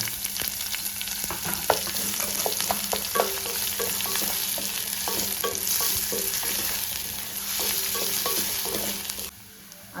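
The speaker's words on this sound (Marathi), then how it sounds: "लसूण आपला भाजत आलेला आहे आता टाकूया आपला बारीक चिरलेला कांदा" Chopped onion and garlic sizzle steadily in a hot pan, a continuous frying hiss with scattered crackles and light stirring scrapes throughout, close and fairly loud, with no talking.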